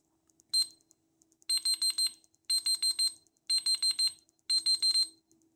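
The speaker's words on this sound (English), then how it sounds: "so you can hear it when it beeps. The beep is loud" A Wallaby digital multiple function timer beeps loudly in rapid bursts of four short electronic tones, repeated in evenly spaced groups with brief silences between, nothing else audible.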